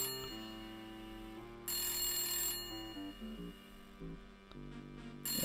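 A soft telephone ring in a video game, a bright sustained ringing tone over layered game music and hum, faint and steady with a brief louder burst partway through.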